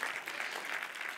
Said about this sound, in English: Oh, a little clap for Romania.